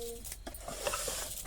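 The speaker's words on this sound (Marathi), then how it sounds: "तांदूळ टाकले" Rice is tipped into a cooking pot for khichdi, producing a brief close scraping, stirring rustle with a soft sizzle and a small metallic clink at the end.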